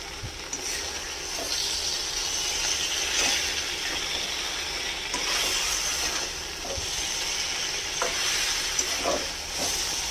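Chela fish curry being stir-fried in a pan, a steady close sizzle with scraping spatula strokes recurring every second or so throughout, no voices.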